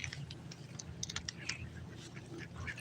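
Ducks quack in short, scattered calls around a fishing spot, fairly near but not loud, with light clattering and rustling between them.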